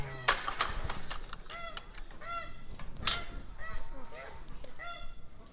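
Canada geese honk repeatedly on a farm, loud nasal calls overlapping in irregular bursts, with other fowl faintly clucking in the background and no clear speech.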